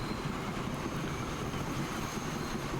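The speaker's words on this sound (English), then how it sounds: "You can hear all the squeaks of the wheels or the flanges." A train rolls along its track in the Transport Fever 2 video game, producing a steady, dense rumble with a thin, high wheel-flange squeal held faintly over it throughout.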